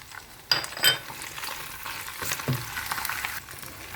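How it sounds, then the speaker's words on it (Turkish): Liver with red and green peppers and onion sautés in a pan, giving a steady close sizzle with a few scraping stirs and clatters near the start. "Tuzunu ilave edelim ve kavurmaya devam edelim."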